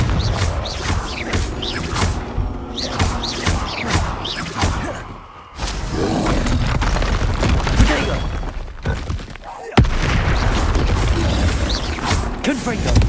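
Confringo blasting spell in Hogwarts Legacy, repeated explosive bursts with crackling shatters and whooshes across the clip, one sharp loud blast near the end, dense game noise with brief voices.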